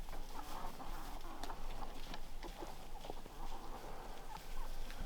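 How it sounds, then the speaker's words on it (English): A pasture flock of 31 chickens, 28 hens and 3 roosters, clucking and murmuring continuously at moderate distance, with scattered sharper calls and shuffling over a soft steady background. "So this is 31 chickens in here, 28 hens, 3 roosters."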